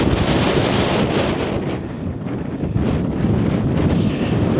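Cold wind gusts outside the Priest's Hole cave, roaring steadily and buffeting a body-worn microphone with broadband rumble throughout, close and loud, with no talk.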